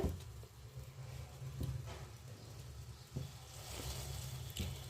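Water drying off in a hot bell-metal wok, a soft continuous sizzle with light patter and occasional faint pops, steady and fairly quiet.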